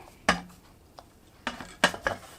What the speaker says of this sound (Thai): เสร็จแล้วก็เอาใส่กับเตานะฮะ ลองดู